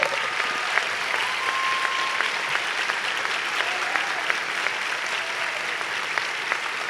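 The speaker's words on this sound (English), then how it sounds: "can you please give him a round of applause?" Steady applause fills a hall at a college honors convocation, even and continuous throughout, with a few sharper individual claps and a faint tone standing out briefly.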